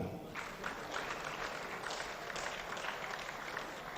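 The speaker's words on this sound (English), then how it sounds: "Please a round of applause as he comes up." A crowd applauds at a fellowship investiture ceremony as an honoree walks up, giving a steady, fairly distant wash of clapping from many hands that continues evenly without talk.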